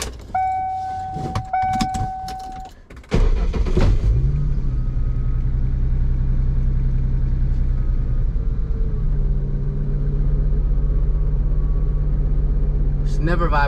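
A Ford Mustang engine idles with a steady low rumble and vibration that holds for about ten seconds, after some clicks and a brief electric whine at the start. A voice speaks at the start.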